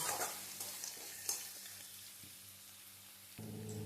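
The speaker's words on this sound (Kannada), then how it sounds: "ನೋಡಿ, ಇವಾಗ ಈರುಳ್ಳಿ ಚೆನ್ನಾಗಿ ಫ್ರೈ ಆಗಿದೆ" Chopped onions frying in a pan for North Karnataka-style avalakki give a steady, close sizzle throughout, with a couple of soft stirring knocks and a louder burst of sizzling near the end.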